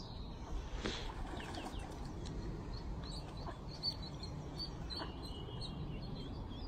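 Ducks quack and birds chirp faintly outdoors, with scattered calls over a soft ambient background.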